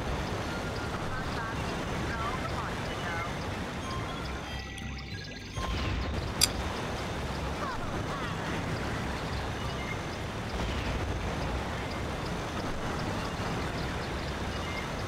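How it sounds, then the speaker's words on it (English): Steady rushing waterfall noise in the Battle for Bikini Bottom video game, a constant broadband wash that dips briefly midway and then resumes at an even level. "Wish this wasn't near a waterfall so I wouldn't get noise pollution."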